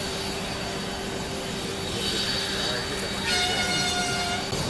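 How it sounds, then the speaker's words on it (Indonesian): A Gulfstream G5 private jet takes off from Ngurah Rai airport in Bali, a steady, loud broadband engine roar with a high whine that swells slightly as it goes, with a voice speaking over it. "pesawat jet pribadi Obama bertipe Gulfstream G5N50JE mengambil haluan untuk melakukan take-off dari Bandara Ngurah Rai"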